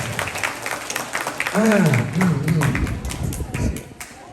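A student audience at an Islamic boarding school demonstration claps in a steady patter while a voice speaks and sings over it, the clapping ending in a few sparse claps.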